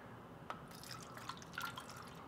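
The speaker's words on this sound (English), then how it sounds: "What I'm gonna do is just fill it up with water." Water poured into an empty Red Bull can, heard as faint, sparse drips and a light trickle at a quiet, close level.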